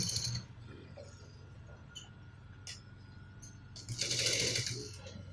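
Sewing machine stitching the overlap seam of a trouser, a steady low mechanical whir with short clicks, rising to a louder burst of stitching near the end.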